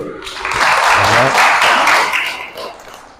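Students in a classroom clap together for about three seconds, a dense patter of hands that swells and then thins, with some murmuring voices mixed in.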